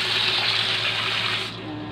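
Water from a tap pours steadily into a steamer pot for steaming pumpkin, a continuous close gush that eases slightly toward the end.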